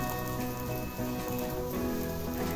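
Puran poli roasting in oil on a griddle over a high flame, giving a steady close crackling sizzle with a faint rain-like patter throughout.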